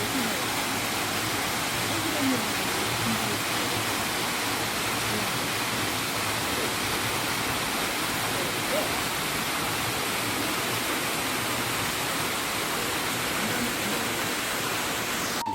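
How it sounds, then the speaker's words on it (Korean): Yeogung waterfall on Juheulsan mountain roars steadily and close, a dense, unbroken rush of falling water filling the whole stretch with no pauses. "아, 여기가 폭포네요. 여궁폭포의 모습."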